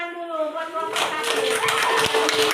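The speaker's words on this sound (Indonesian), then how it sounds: "Kasihlah tepuk tangan dulu buat kelompok 1." Classroom clapping for a student group after a discussion report, a short burst of hands joining in over a teacher's fading voice.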